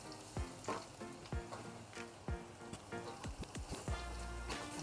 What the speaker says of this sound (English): Continue to stir fry.